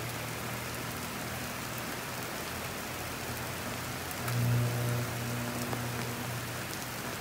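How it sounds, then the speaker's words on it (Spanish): Steady rain pours down in a continuous hiss near a fallen power line, with a low electrical hum running underneath and a brief swell in intensity midway. "Lloviendo ahora mismo"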